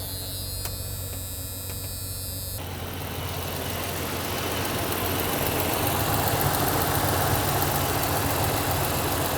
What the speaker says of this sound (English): Still got that rattle on startup